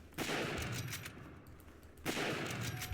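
The standard infantry rifle of the Vegan nation firing in a video game's Vega update: two loud bursts of rapid gunfire about two seconds apart, with a quieter stretch between them and no talking.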